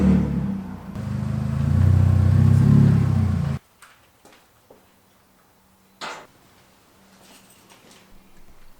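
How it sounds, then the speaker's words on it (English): A car engine runs and revs loudly in a garage for a few seconds, then cuts off abruptly, leaving faint clicks and a brief thump in the quiet that follows. "I'm probably just going to back the car up a bit"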